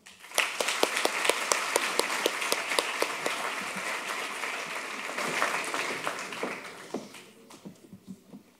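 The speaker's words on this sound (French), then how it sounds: "Je vous demande d'applaudir Madame Elona Bayeul." Sustained audience applause greets a finalist at a business school eloquence contest, a full room of crisp, dense clapping that holds steady for several seconds and then tapers off, with no speech over it.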